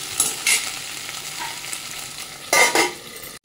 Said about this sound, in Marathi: मस्त असं लालसर होईपर्यंत ते परतत राहायचं